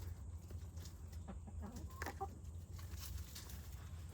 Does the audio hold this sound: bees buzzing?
no